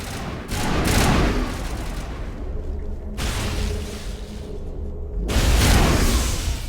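Explosions in the video game Mass Effect boom loudly in several heavy, overlapping blasts with crackling debris, alone and without talk.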